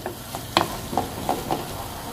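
Batbout filling with parsley stirred and frying in a hot pan, a steady sizzle broken by several distinct scraping stirs at irregular intervals, close and fairly loud.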